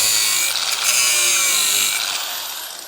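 Continuous high-pitched metal cutting on the rear panel of a Citroen Visa, a loud steady grinding whine lasting throughout with slight dips in intensity, no voices.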